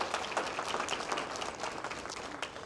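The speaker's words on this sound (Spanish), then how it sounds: "Yo quiero que le den un aplauso a mi pastor asistente, a su esposa." Church congregation applauding the assistant pastor and his wife, a steady, fairly loud burst of many hands clapping together, continuous throughout.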